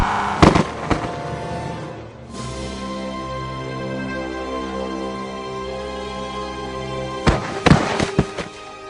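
Film explosions from The Terminators: a couple of sharp blasts at the start and a cluster again near the end, with a low sustained rumble and music-like tones between them.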